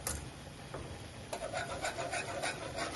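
A whisk scrapes and rubs steadily around a pan as milk is worked into a roux for gourmet mac and cheese, a close, continuous rasping stir with no talking.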